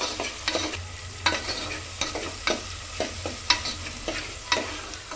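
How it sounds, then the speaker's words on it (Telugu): Chopped onion and two green chillies sizzle in hot oil in a pan, a steady close frying hiss broken by regular sharp scrapes and clacks of a stirring spoon, with no voices. "ఇప్పుడు ఆనియన్, ఒక 2 పచ్చిమిర్చి ఫ్రై కొంచెం బ్రౌన్ కలర్ అయితే రావాలి."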